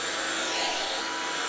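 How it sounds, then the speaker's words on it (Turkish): Vacuum-like suction whine from window cleaning in the House Flipper video game, a steady broadband hiss holding evenly and fairly loud throughout with no talking. "Süpürge makinesi gibi bir şey herhalde ya."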